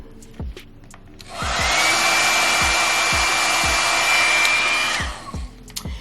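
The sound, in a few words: hot air blow dryer brush drying wig hair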